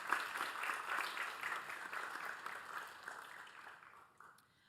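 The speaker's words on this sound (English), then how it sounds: "let's go ahead and give them a round of applause" Audience applause at a school board meeting honouring reward schools, a moderate burst of clapping from a room of people that tapers off toward the end.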